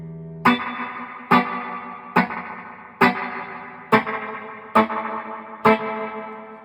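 Solid Gold FX Surf Rider III spring reverb pedal turned to full, with seven evenly spaced guitar strikes, each splashing into a wet, drippy spring wash that trails off before the next hit, no talking.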